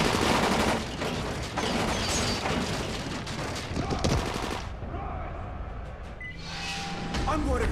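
Sustained automatic gunfire from the Dying Light game, loud, dense bursts that cut out briefly around the middle before firing resumes, with a few shouted voices in the mix.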